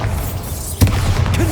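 Bombarda blasting spell going off in the Hogwarts Legacy video game: a sharp impact burst with a low thud and crackling debris, standing out over ongoing combat rumble.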